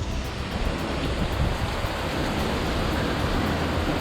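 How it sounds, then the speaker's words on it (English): Steady, dense hiss of heavy Florida rain pouring down continuously during a thunderstorm, with a low rumbling undertone of distant thunder beneath it. "it's thundering and raining here in Florida"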